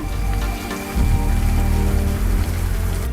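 Steady rain falls and patters on surfaces in an unbroken, close hiss, slightly heavier after the first second, with no voices over it.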